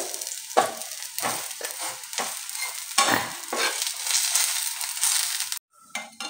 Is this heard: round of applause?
no